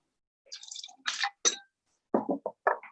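Two ounces of gin poured into a cocktail glass for an old fashioned, a few short close liquid splashes and glugs in quick separate bursts.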